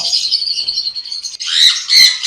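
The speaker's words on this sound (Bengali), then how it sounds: "এখানে আছে লুকিনো ককাটেল লুটিনো ককাটেল আছে এগুলো ফুল অ্যাডাল" Lutino cockatiels chirp loudly and continuously close by, in shrill overlapping calls that rise in intensity toward the end.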